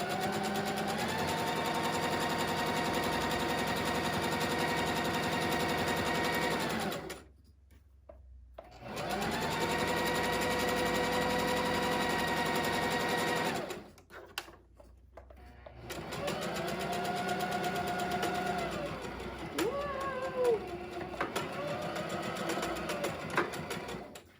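A sewing machine runs in three long bursts over T-shirt fabric, a close, steady whirring hum that stops twice for a couple of seconds, with a faint uneven hiccup near the end.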